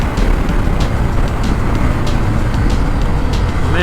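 The engine of a 2024 KTM Duke motorcycle drives hard on the Almeria race circuit. It is a loud, steady, rough roar dominated by wind and engine noise for a few seconds, with no talk.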